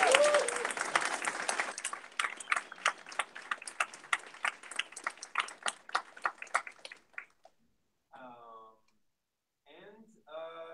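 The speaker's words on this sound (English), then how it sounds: "So big round of applause for them." An audience applauds, the clapping thinning out to a few scattered claps before fading to quiet, then a voice starts talking.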